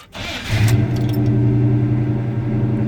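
A Chevrolet crate 350 V8 car engine cranks briefly and catches, then settles into a loud, steady, deep idle that holds to the end.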